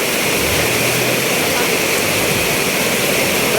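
Rushing floodwater from a river pouring through a relocation area, a steady broadband roar filling the whole stretch at close range with no pauses.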